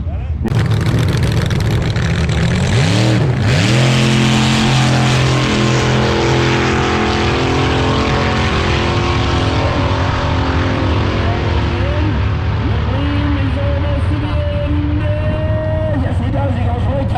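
A drag racing vehicle runs the full quarter mile on a wheelie at a track competition: a loud, continuous engine roar climbs in pitch through repeated gear changes and holds close and steady for the whole run.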